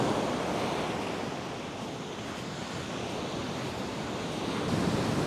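Ocean surf breaks on a rocky remote beach in General Nakar, Quezon, with a continuous wash of waves and wind buffeting the microphone, loud and close, with no talking.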